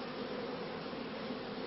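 Honey bees crowded on a comb lifted out of the hive, giving a steady, even buzzing hum that holds without a break.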